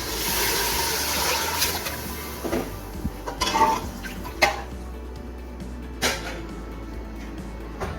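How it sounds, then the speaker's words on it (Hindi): Water pours and splashes into a cooking pot of dal and spices for khichdi, a steady rushing pour that fades into a few clinks and knocks of metal pots and utensils. "तीन गिलास हमने पानी ऐड कर दिया है।"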